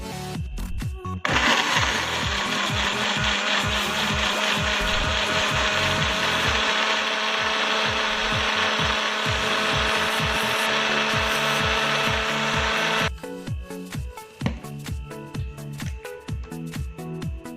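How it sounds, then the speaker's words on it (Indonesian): A blender whirs loudly and continuously for about twelve seconds, grinding spices with water, then stops, followed by scattered clinks and handling noises. "Langsung saja kita blender"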